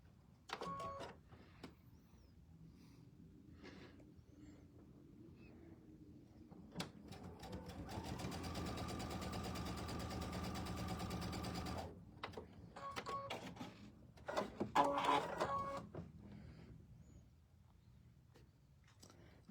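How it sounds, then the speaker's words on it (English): A sewing machine stitches two strawberry-print fabric pieces for tabletop banners in a quilting session, running steadily for about five seconds in the middle, framed by quieter handling clicks and rustles before and after. "we're going to stitch directly on the line again"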